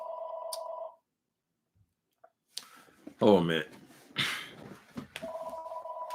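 A phone gives off a steady electronic tone, stops for a pause, and then sounds again at the end. Someone speaks and makes a few clicks and handling noises in between.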